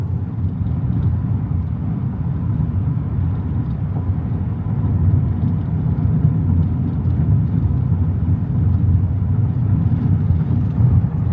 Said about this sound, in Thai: ส่วนเสียงจากพื้นที่ขึ้นมาบนห้องโดยสารนะครับคันนี้ก็ไม่ได้ดังมากนะ